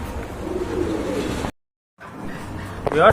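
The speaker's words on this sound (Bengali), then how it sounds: "আজকে কবুতরগুলো আপনাদেরকে দেখাই" Racing pigeons, including a pure black pair, coo in a low, soft rumble, with brief chirpy calls near the end; a short silent gap splits the clip.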